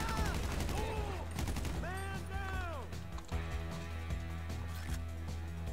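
Gunfire in GTA V: a rapid burst of shots at the start followed by scattered cracks, mixed with game music and sound effects, close and fairly loud.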